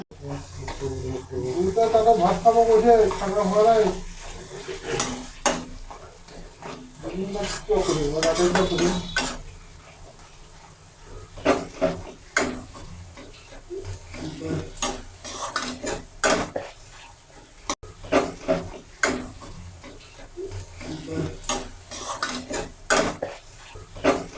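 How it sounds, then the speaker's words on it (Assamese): Metal utensils scrape and clatter against a pan as egg and potato are stirred, with a soft frying sizzle underneath and occasional louder knocks throughout. "এইখিনি ভালদৰে ভাজি ল'ব লাগিব"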